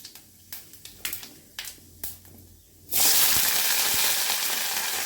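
Fennel seeds hit hot oil for an egg kuzhambu masala, a few light crackles and taps giving way to a sudden loud, steady sizzle that holds close and constant, with no talking.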